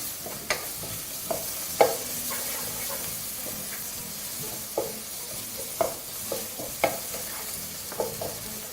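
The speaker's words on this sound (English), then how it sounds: "And you want to continue frying that for about another 1 or 2 minutes." Thick tomato paste sizzles and spits as it fries in a pan, with a scraping spoon stirring it now and then in irregular strokes.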